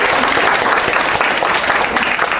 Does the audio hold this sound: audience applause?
yes